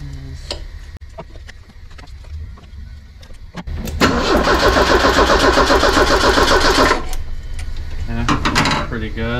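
A 1984 Ford Ranger fitted with a 1987 Turbo SVO engine cranks with scattered clicks and whirs, then the starter grinds loudly for several seconds, drops off, and cranks again briefly near the end.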